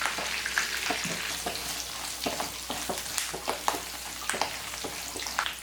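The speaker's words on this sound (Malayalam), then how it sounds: "ഈ ഉണക്കമുളകും കറിവേപ്പിലയും ഒന്ന് ഫ്രൈ ആയിട്ട് വരണം" Dried red chilies and curry leaves frying in hot oil, a close, busy sizzle with sharp crackles and pops scattered throughout, loud and steady with no talk.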